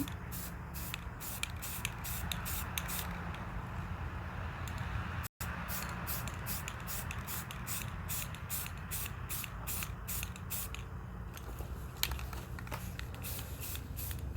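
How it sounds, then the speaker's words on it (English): Rust-Oleum spray paint hissing onto a pumpkin in a long series of short, rhythmic bursts close up, each spray separated by brief gaps, with one abrupt cut near the middle. "As you can see, it covers a large amount of area when you're spraying."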